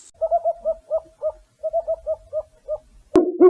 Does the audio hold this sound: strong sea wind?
no